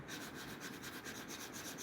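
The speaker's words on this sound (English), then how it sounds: "These fiber sanding discs, sanding pads, whatever you want to call them, you leave a smoother finish than the sandpaper" A cabinet door being sanded by hand with fiber sanding discs or pads, a steady, continuous close-up rubbing and scuffing that holds an even level throughout, with no voices.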